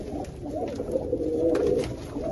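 A racing pigeon coos close by in a soft, throaty, repeated rhythm that runs steadily throughout, with low background rumble underneath and no talking.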